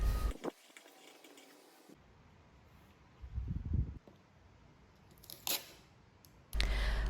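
Paper pattern snipped with scissors along one leg of a bust dart while drafting a bodice, a few close, soft cutting and crinkling sounds separated by quiet pauses.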